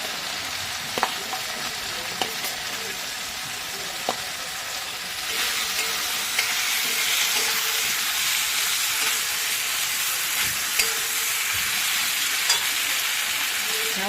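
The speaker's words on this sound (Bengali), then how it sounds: "ভেজে রাখা আলুটা দিয়ে দিচ্ছি" Fried potatoes drop into a cooked spice paste in a pan while preparing jackfruit and prawn curry; a steady sizzle jumps louder partway through, with faint clinks of stirring on top.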